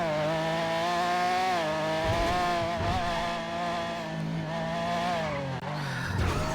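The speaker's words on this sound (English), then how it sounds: "I can't stand yelling over a car" A car engine drones steadily in a GTA RP game, its pitch rising and falling as the car speeds up and slows down, with a brief rough burst partway through and no speech.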